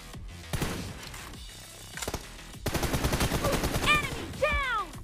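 Gunfire in a PUBG team deathmatch (TDM) comes as rapid automatic bursts and sharp single shots, close and loud, with brief game sound effects in between.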